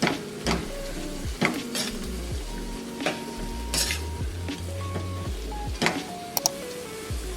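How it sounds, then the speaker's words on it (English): Ground beef sizzles in a pan while a utensil stirs and scrapes it in repeated strokes, close and moderately loud over a low steady frying hiss, with faint tonal sounds in the background. "I'm gonna mix those in the beef and let that cook"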